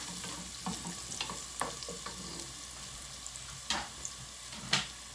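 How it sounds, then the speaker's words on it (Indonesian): Onion and tomatoes sauté in a pan, giving a steady low sizzle with scattered sharp clicks and stirring scrapes, close and moderately quiet throughout. "magigisa ako ng tomatoes"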